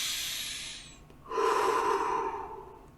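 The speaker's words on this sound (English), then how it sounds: "You can do counted breathing. Every inhale is a 1, and every exhale is a 2." Slow, deliberate breaths during a meditation exercise: a long airy inhale fading out, then a fuller, louder exhale, both close and intimate with no voice.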